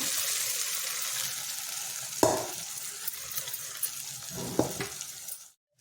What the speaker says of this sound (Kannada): ನಿಧಾನಕ್ಕೆ ಕಲಿಸ್ತಾ ಒಂದು ಸ್ವಲ್ಪ ಹೊತ್ತು ಹುರಿಬೇಕು ಇದನ್ನು